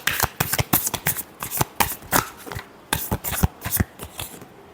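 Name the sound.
shuffling tarot cards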